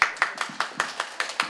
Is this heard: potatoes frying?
no